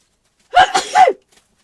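A single loud sneeze in a quiet room, a sharp burst with a short intake before it.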